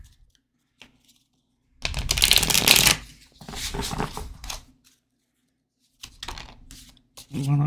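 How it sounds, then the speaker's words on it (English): Oracle cards are shuffled by hand in a few bursts: a loud close riffle for about a second, a softer stretch of shuffling, then more brief card flicks. Near-silent gaps separate the bursts. "nobody if I can't shuffle the cards"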